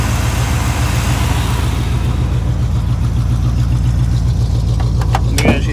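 A Chevrolet Suburban SUV engine idles steadily up close with a low, even rumble, while a few faint clicks and rattles come through near the end.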